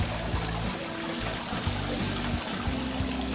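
Water pours and trickles steadily for a dog to drink from, a continuous splashing flow with low gurgling pulses, close and moderately loud with no talking.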